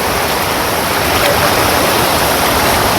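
Loud, steady roar of fast-flowing floodwater rushing over a bridge close by, a dense continuous wash with no pauses.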